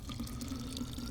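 Running water from the video game Tails of Iron, a brief steady trickling flow like a tap, close and even in level, with no one speaking.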